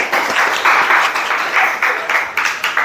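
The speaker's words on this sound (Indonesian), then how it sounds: "Silakan tepuk tangan dulu. Tepuk tangan." Classroom applause for a student group after their presentation: a dense, steady patter of many hands clapping close by for the whole stretch, with slight surges in rhythm and no talking.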